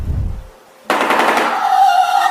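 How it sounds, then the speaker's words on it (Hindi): A shoebill's bill-clattering call bursts out suddenly after a short pause, a loud, rapid, machine-gun-like rattle that carries on steadily to the end. "Number 1, shoebill."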